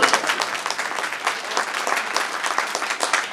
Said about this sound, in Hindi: फालतू ताली बजाएगा।